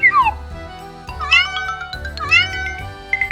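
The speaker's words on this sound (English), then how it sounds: "It says meow, meow when it talks." A cartoon cat in a children's animal-matching puzzle meows twice, a bright rising-and-falling call alone over soft background music, with a short high chime near the end.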